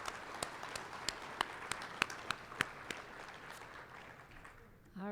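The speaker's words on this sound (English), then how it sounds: "Let's give her a round of applause." Audience applause at a Wisconsin lake stewardship and volunteer stream monitoring awards ceremony, a fairly quiet, steady patter of clapping from a modest crowd with a few sharper individual claps, fading toward the end.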